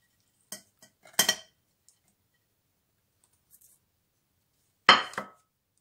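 Beet and carrot peels drop into a metal coffee pot, making a few short clattering knocks: one at the start, a louder double rattle soon after, then a final burst following a long quiet pause.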